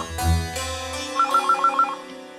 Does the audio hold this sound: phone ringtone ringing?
yes